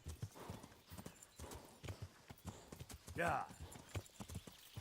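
Horse hooves clip-clop in the video game Kingdom Come: Deliverance, a rapid, steady rhythmic trot with a short neigh partway through, all heard alongside an ongoing voice.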